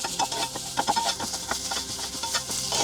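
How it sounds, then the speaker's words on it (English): Browning onion with ginger and garlic stirred in a hot pan, with a steady sizzle and repeated scraping, clattering stir strokes close up, no talking. "We have to stir the onion, then it's not stick on the pan"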